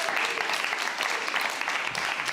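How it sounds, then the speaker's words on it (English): A crowd applauds a graduating guide dog class at a Guide Dogs for the Blind ceremony, with dense, sustained clapping that stays loud and even throughout. "I would like to give another round of applause for our graduating class of"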